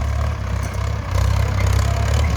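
A Ford farm tractor engine idles steadily with a low, throbbing rumble and light mechanical clatter, swelling slightly louder partway through, with no voices.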